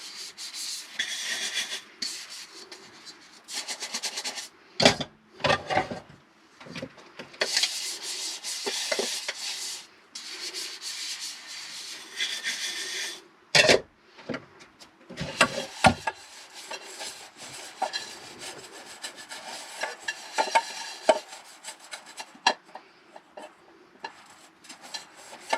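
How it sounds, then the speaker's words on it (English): Bowls being scrubbed by hand during dishwashing at Quartz Creek Campground in Alaska, a steady close rasping rub that repeats in bursts with short pauses and light knocks between strokes, no talking. "let's scrub up each bowl"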